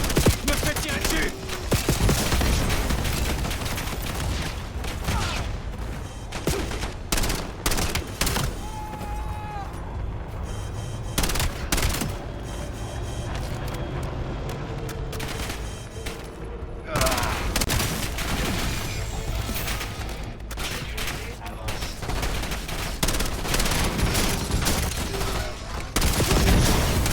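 Dense gunfire from the video game Call of Duty Black Ops 7, with rapid bursts and repeated shots in a loud, continuous firefight and a player's voice over it.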